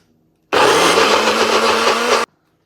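A kitchen blender purees baby food in one loud, steady whirring burst of under two seconds, starting and stopping abruptly, with no talk.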